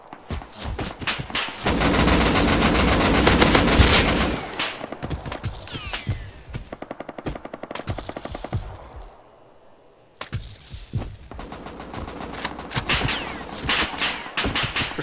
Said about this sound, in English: I'm being shot from multiple people at multiple angles.